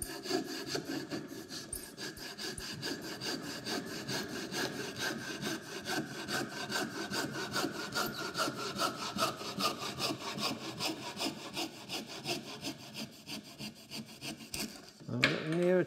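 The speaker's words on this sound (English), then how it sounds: "And then I can saw down" Hand saw cutting down through a piece of wood clamped in a vise while carving a wooden scoop, a steady rhythmic rasping of back-and-forth strokes, close and continuous.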